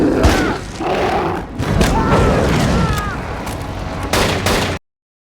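Gunshots fired by a sheriff at a monster, several heavy booming shots over tense dramatic sound and a growling creature, loud and close before cutting off abruptly.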